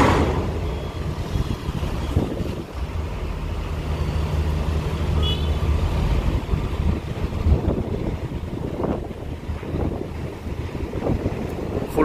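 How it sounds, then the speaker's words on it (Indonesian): Hino trucks at a ferry dock under a cloudy sky, heard as a steady, loud engine rumble mixed with heavy wind buffeting on the microphone, continuous throughout with no clear breaks. "Truk-truk Hino."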